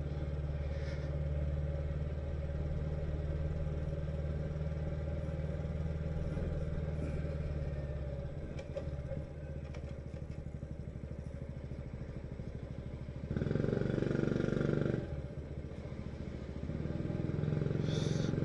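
A Honda Cross Cub motorcycle riding on a street, its small engine holding a steady, continuous drone with a louder surge toward the end, recorded close up.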